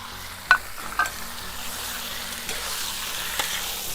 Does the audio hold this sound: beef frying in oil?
yes